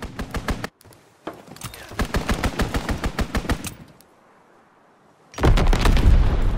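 An aircraft makes a strafing run in Call of Duty WW2, its machine guns hammering out loud rhythmic bursts of rapid shots. A quieter lull follows, then a heavy, booming blast of fire closes the run.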